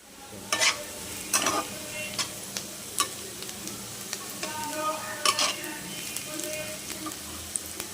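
A spice paste for a meat curry fries in a pan under a constant sizzle, broken by repeated sharp scrapes and clacks of a spatula stirring it at irregular intervals.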